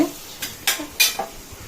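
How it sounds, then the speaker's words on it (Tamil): Tomato sautéing in a pan while a seafood curry of stingray and crab is prepared, with a faint sizzle under about four distinct scraping and clinking strokes of a utensil against the pan, no voices. "ஒரு ஒரு தக்காளி சும்மா அப்படியே போட்டு கொஞ்சம் வதக்குவோம்"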